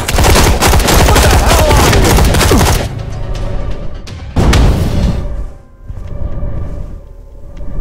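Gunfire in the video game Dark, dense rapid automatic bursts that are loud and close, a short pause, then another heavy volley and a few scattered shots before things quiet down.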